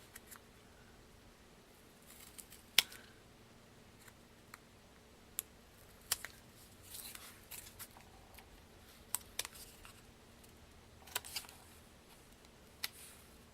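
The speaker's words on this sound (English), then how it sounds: "I'm just going to trim off the parts where it didn't cover." Scissors trim a paper heart on a handmade dress form card, with faint, sparse snips and small paper clicks spread across a quiet background.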